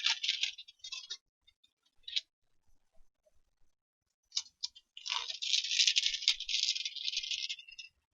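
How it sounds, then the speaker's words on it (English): A foiling sheet peeled off a glued paper decoration, giving short crackly rustles, then a longer sustained crinkling peel, close and quiet with pauses between. "And then you peel away your foiling sheet."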